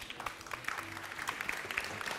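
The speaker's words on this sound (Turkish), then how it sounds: "Bu az alkış biraz sonra çoğalacak." Thin, modest clapping from a television studio audience on a talk show, a light patter of scattered hands over a brief moment, fairly faint with a low murmur underneath.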